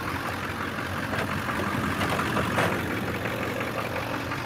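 A Volkswagen Jetta engine idles quietly with its exhaust left unfinished, a steady low, even hum running throughout with no talk over it.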